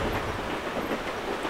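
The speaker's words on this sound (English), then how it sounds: "That's a train." A train passes during a Call of Duty: Black Ops multiplayer match, giving a steady, loud broadband rumble with a low clattering roll that holds throughout the short moment.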